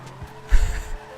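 A Lada Rune Cheburek car in GTA 5 skids around a corner, giving a short, loud tire squeal over the engine note, alone with no talk.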